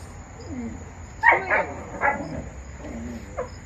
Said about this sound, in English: I apologize for the noise. My dogs are doing what they do